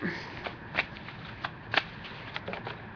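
A deck of Healing with the Angels oracle cards being shuffled, a series of soft, crisp riffling flicks at irregular intervals, close and alone.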